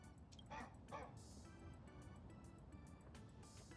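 A dog barks twice in quick succession early on in the Honkai: Star Rail game, set over a steady noisy background with faint game sounds, then falls quiet.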